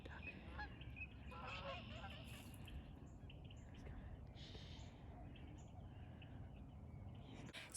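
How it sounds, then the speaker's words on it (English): A goose honks a few times, faint and distant, over steady outdoor noise by water, with most of the calls bunched near the start. "Look, it's a goosey mama."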